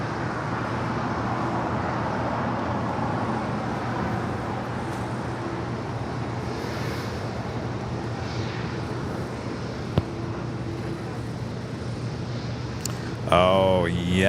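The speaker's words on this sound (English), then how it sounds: "787-8 Dreamliner with American heading to the north side." American Airlines Boeing 787-8 Dreamliner taxiing at LAX, a steady distant jet engine rumble with broadband airport noise, and a voice talking over it.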